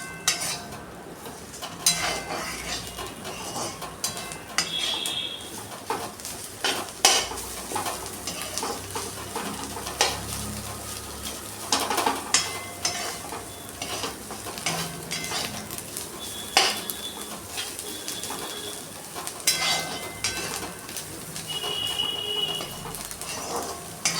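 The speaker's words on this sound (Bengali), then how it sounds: "ডাল ভাজে রেখে এসছি।" Dal frying in a pan in a home kitchen: a steady sizzle runs throughout, broken by repeated stirring scrapes and clinks of utensils against the pot, close and moderately loud, with no talk.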